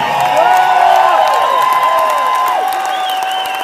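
School of Rock West Coast All Stars audience at Red Rocks Amphitheater applauding and cheering, a loud, continuous roar of clapping with sustained shouts and whoops throughout.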